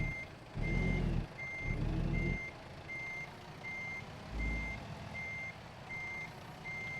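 A truck backing up in American Truck Simulator gives steady, evenly spaced reversing beeps, with low engine rumble and brief louder engine swells underneath.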